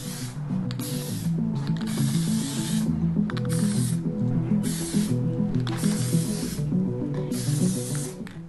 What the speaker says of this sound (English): that actually sprays really well